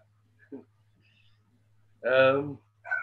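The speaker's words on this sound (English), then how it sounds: "my dog's barking" A dog barks indoors in the background: a short faint yelp, then a louder, longer bark and a final short one, over a low steady hum.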